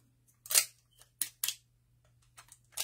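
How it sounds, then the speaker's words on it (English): Scissors snip through paper during a Halloween mixed-media craft project, giving several short, crisp cuts in quick, uneven bursts close to the microphone with a low steady hum underneath. "I have my scissors here."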